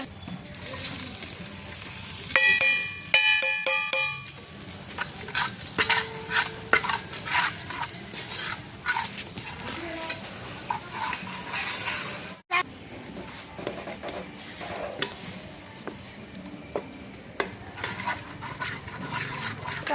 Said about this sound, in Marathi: आता परतून घ्यायचाय